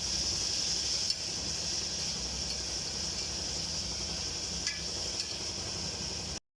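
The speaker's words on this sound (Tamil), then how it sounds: "வெங்காயத்தக்கெல்லாம் நல்லா வதங்கி வரட்டும்." Onions with a pinch of salt sautéing in a pan, a steady close sizzle and hiss with occasional faint stirring clicks, continuous for several seconds.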